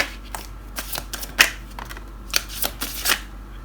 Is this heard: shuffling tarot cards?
yes